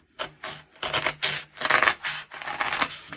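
Craft material for a cat gnome being cut with a knife, a series of close, scratchy rasping strokes in bursts of uneven length with brief pauses between them.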